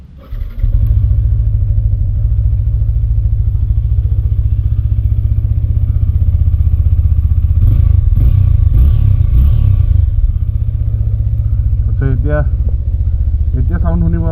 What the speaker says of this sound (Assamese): এতিয়া চাউণ্ড শুনিব আপোনালোকে BS3 ns200 চাউণ্ড শুনিব